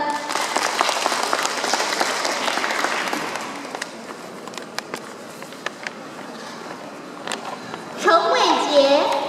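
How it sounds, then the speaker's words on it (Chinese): An audience claps loudly to welcome performers onto the stage at a press event featuring a crosstalk act. The dense applause thins out over several seconds before a voice begins speaking. "掌声欢迎他们！"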